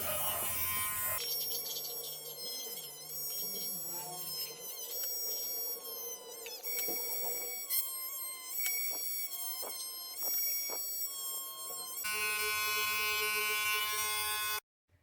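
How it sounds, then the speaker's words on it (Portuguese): A mini rotary tool with a very thin drill bit whines at high pitch while boring into a thin epoxy resin keychain, its tone shifting and dipping as it bites, continuous and close with no talk. "Ela é bem fininha, essa broca. Vou estar utilizando aqui uma mini retífica."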